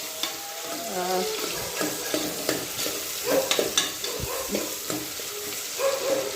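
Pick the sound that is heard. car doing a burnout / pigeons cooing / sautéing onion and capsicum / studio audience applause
sautéing onion and capsicum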